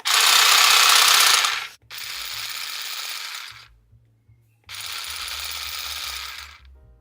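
A Parkside PGSA 4 B3 cordless garden combi-shear runs in three bursts of a few seconds each, a close, steady, fairly quiet buzzing whir that cuts off between runs, with faint low rumbling and no speech.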